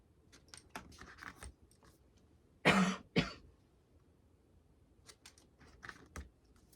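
Two loud coughs of a person in a quiet room, close to the microphone, a harsh burst followed by a shorter second one, with faint clicking and shuffling around them.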